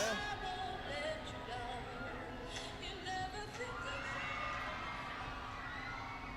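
Crowd at a football watch party between AMP and Beta Squad, a steady wash of cheering, children shouting and chatter throughout, loud and close with no single voice standing out.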